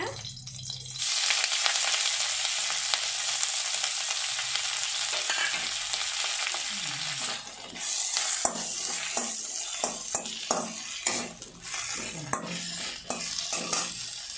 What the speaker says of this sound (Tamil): மறுபடியும் வானலியில் கொஞ்சமாக ஆயில் ஊற்றி இந்த கீரையை அதில் போட்டு லைட்டாக வதக்கிக்கோங்க